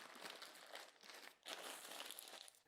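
Baking paper crumpled by hand into a tight ball on a kitchen counter, a dense, close crinkling that runs almost continuously, with one brief pause before it resumes louder.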